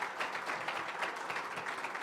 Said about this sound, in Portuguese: Eu queria que a igreja honrasse a vida de vocês com a salva de palmas.